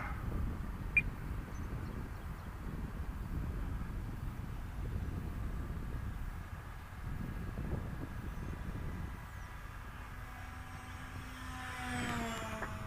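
A Hobbyking Fun-Fighter F4 Wildcat RC plane on a 3s battery, its electric motor droning steadily below full throttle, fairly faint and distant, with a rising whine near the end.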